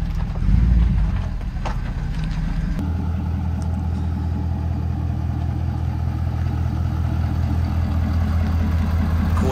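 A Ford F250 Platinum pickup with a dual rate coil 2.5-inch leveling kit idles with a steady, low, even rumble from its engine and exhaust, after a brief louder thump at the start. No voices.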